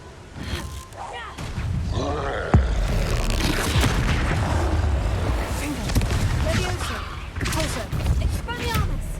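Expulso explosion spell going off in a video game, a loud close boom with rumbling blast noise and clatter around it, a voice speaking over the top.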